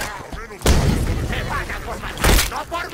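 Two heavy booming gunshots in Halo 5: Guardians, one early and one near the end, with game sound effects and background voices between them.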